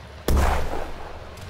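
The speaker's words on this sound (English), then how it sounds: "Enter an explosion." A single sharp explosion in a Roblox game, a sudden loud boom with an abrupt attack and a rumbling low tail that fades over about a second.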